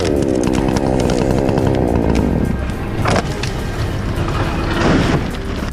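A chainsaw runs loud and close while cutting down a giant tree, with a steady high engine whine that drops in pitch partway through, with scattered cracks and thuds of wood.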